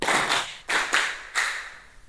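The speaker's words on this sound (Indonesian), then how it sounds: "Tepuk satu, tepuk dua, tepuk tiga, tepuk empat, tepuk lima." Students in an Indonesian-language classroom clapping-game doing short, sharp bursts of group clapping in a counted rhythm, each burst decaying quickly before the next, close and clear.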